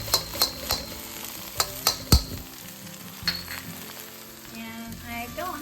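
Mushrooms and garlic stir-fried in a pan as part of a broccoli and carrot vegetable stir fry, with steady sizzling broken by sharp clinks and scrapes of a utensil against the pan, loud and close.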